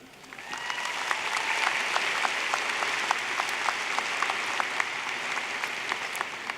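A commencement audience for Oklahoma State's spring 2018 CEHA and CASNR ceremony bursts into steady applause, the clapping rising quickly and then holding as a dense, even patter of many hands.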